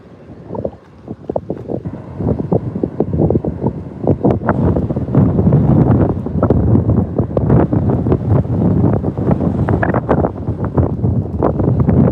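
Strong gusts of wind buffet a tripod-mounted camera at Vancouver's YVR airport, producing loud, continuous low rumbling with rapid thumping bursts that hardly let up, and no voices.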